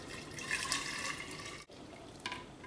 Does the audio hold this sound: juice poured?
yes